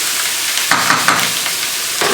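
Oxtail for a Jamaican oxtail stew sizzles and spits as it hits the hot pot, a steady frying hiss with a few sharper bursts, close and fairly loud with no talking.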